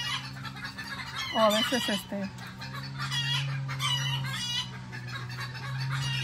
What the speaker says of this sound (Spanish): Disculpen el escándalo de mis gallinas, el escándalo que traen.